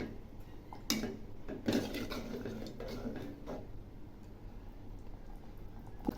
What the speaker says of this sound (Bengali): মাংসটা আবার একটু নেড়ে দিচ্ছি